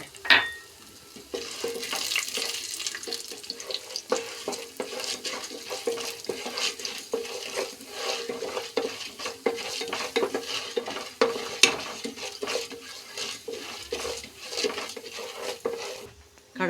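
Chana dal fries in coconut oil with popped mustard seeds, a steady close sizzle with repeated scraping stirs of a spoon in the pan, and only faint voice traces.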